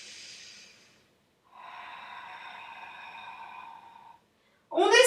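A soft, airy breath drawn in during a beginner-to-intermediate Pilates exercise, close and fairly quiet, followed by a steadier humming tone and then a short louder rush of breath at the end.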